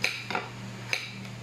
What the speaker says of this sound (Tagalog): Hiwa tayo carrot na naman, hiwain natin.